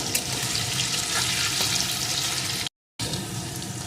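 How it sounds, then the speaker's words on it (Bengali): Salted potato pieces fry in oil in a wok, giving a close, steady crackling sizzle that drops out briefly for a moment before resuming. "এখন আলুটাকেও লাল লাল করে ভেজে নেব"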